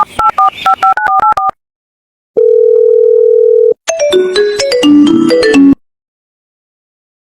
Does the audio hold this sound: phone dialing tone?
yes